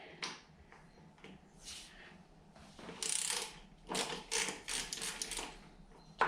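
Loosening the pinch bolt on a BMW R65 motorcycle: a series of close, bright metallic ratcheting clicks and taps, coming in short bursts with brief pauses between them.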